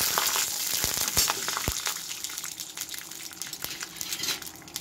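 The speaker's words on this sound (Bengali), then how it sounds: "বাদামটা আগে ভেজে নিই, তারপরে মোচার আলু ভাজবো" Peanuts frying in a pan on a gas stove set low, a soft continuous sizzle with occasional clinks of a utensil against the pan, fading slightly toward the end.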